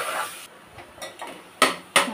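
Masala being stirred and sautéed in a pan on low heat: a few light scrapes and two sharper metallic knocks of a spoon against the pan, close and sparse.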